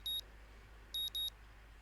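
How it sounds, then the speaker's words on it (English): Alarm clock in the Katawa Shoujo visual novel game: three short electronic beeps, one alone then a quick pair, clear and thin over a quiet low hum. "here's the alarm clock"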